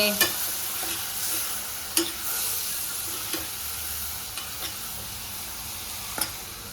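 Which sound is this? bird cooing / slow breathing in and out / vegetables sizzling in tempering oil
vegetables sizzling in tempering oil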